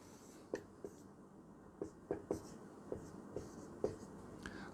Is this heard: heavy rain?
no